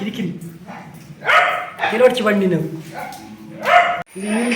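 A dog barks repeatedly in a village garden, short yapping bursts mixed in with people talking nearby.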